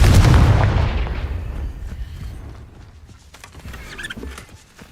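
Confringo blasting curse going off in Hogwarts Legacy: one loud, close, broad explosive boom that fades over about two seconds into a rumbling tail, then quieter crackling and small debris sounds.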